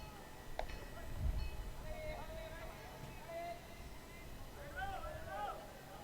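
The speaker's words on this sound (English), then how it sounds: "that train behind right field, tugging along" Freight train rolling along behind right field at a college baseball game, a distant low rumble with faint horn-like tones running steadily under a play-by-play announcer's voice.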